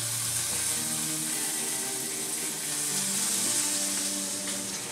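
Bacon strips sizzle and crackle steadily in a hot pan, a dense, continuous frying hiss that stays close and even throughout, with no voices.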